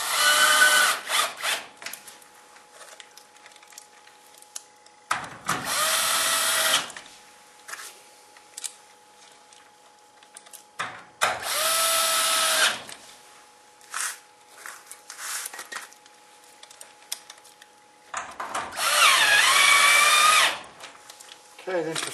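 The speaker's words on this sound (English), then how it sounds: "So, get your battery drill." A cordless battery drill drives screws into a sectional overhead garage door hinge, several short whirring bursts spaced apart with quiet pauses between, while a person talks briefly.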